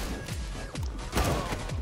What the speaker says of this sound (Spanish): no lo mato con una escopeta y tengo que pegarle dos tiros